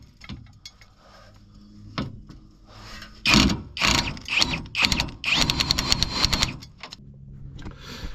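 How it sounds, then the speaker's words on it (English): A ratchet wrench works an 18 mm sway bar end link nut on a 2024 Ram 1500 pickup, with rapid clicking bursts and metallic creaks between quieter pauses, close and fairly loud with no talking. "Now we are going to go and remove the sway bar end link nut that's on the bottom there."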